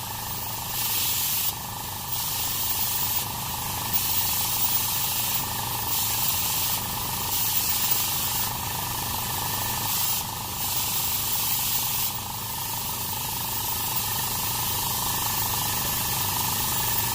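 Plasma cutter slicing through coil suspension springs on a 1983 Cadillac Coupe DeVille during an air ride conversion: a steady loud hissing roar runs throughout, with brief breaks and surges every second or two.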